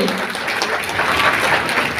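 Applause for Chief Minister Manik Saha at a public government event, a steady broad wash of crowd clapping that sustains evenly throughout at moderate loudness.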